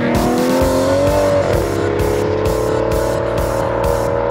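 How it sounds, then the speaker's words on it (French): The V12 engine of an Aston Martin Vanquish II Volante revs loudly and steadily nearby, its pitch climbing and settling under a constant throaty roar. "si ce V12 enchante par sa sonorité"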